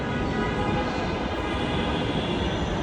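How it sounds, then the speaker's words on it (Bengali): A metro train at Uttara metro rail station in Bangladesh produces a steady, loud rumbling roar with no breaks or distinct events throughout. "উত্তরা মেট্রো রেল স্টেশন অনেক সুন্দর"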